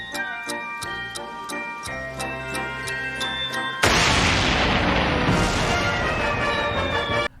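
A metronome ticks in a steady, even rhythm in a cartoon, where it serves as a trap rigged to a grenade pin, then a loud explosion cuts in abruptly and roars on until the end.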